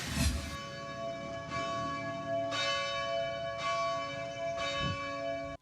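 Church bells of a town parish in the Philippines ring in steady, resonant strikes about once per second during the Christmas season, each tone blooming and lingering over the last, loud and fairly close.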